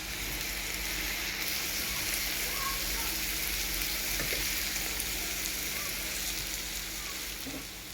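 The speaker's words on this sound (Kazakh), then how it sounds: "Содан соң енді макаронымызды салып жақсылап қуырамыз." Vermicelli pasta fries in a pan with meat and tomato for a Kazakh noodle dish, giving a continuous close, even sizzle with faint stirring clicks and no speech.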